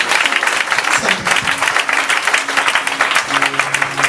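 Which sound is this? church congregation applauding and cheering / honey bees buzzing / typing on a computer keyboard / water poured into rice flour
church congregation applauding and cheering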